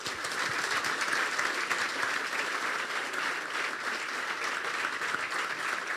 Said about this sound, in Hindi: तो अपने लिए तालियां बजा दें।